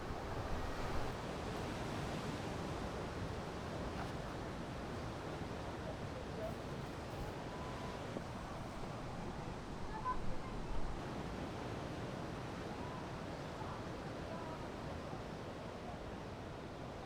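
Waves wash against a rocky volcanic shore on Jeju, a steady broad surf rush with wind buffeting the microphone, a few louder swells near the middle.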